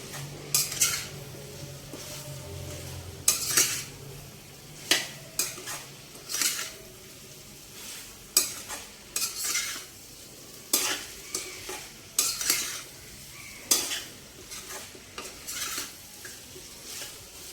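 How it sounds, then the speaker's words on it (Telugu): Cucumber and mutton pieces fry in a pan for a Telugu matan dosakaya curry, a steady sizzle underneath repeated sharp scrapes and clinks of a spoon stirring against the metal pan at irregular intervals. "దోసకాయ ముక్కలు వేసాక ముక్కలు కొంచెం వేగాలండి."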